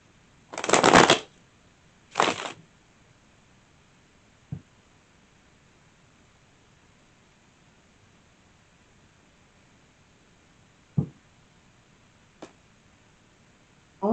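Tarot cards being shuffled by hand, two short crisp riffling bursts near the start followed by a few faint isolated taps and clicks in an otherwise quiet room.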